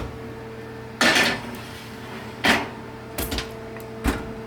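Metal baking pans of donuts clatter and knock as they slide into a 375-degree oven, four separate bumps and clanks spaced over a few seconds against a steady low hum.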